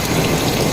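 Steady rain in Minecraft, a dense, even hiss of falling drops that stays constant and fairly loud, with no voices.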